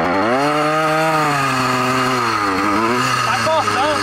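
Motorized bicycle with a small 80cc or 100cc two-stroke engine revved hard at full throttle, a loud, steady buzzing drone with rising and falling pitch sweeps, close by and continuous.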